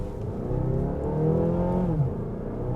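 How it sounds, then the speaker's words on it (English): A 2023 Mazda CX-8 petrol engine revs hard and climbs in pitch, then eases off, a steady loud mechanical drone with no voices. "so that's what I mean about that engine. It is pretty revvy."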